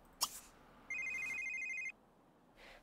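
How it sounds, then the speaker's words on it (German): Telephone ringing in the video game Sims 3, a single steady electronic ring tone lasting about a second, fairly clear against quiet background with a faint click before it. "Oh, unser Telefon klingelt."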